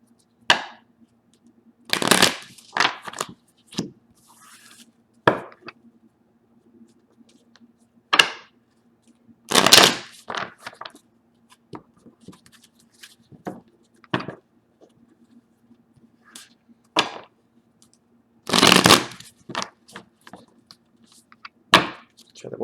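Tarot cards are shuffled in sharp, irregular bursts of riffling and slapping, near and fairly loud, split by quiet gaps and a faint steady hum.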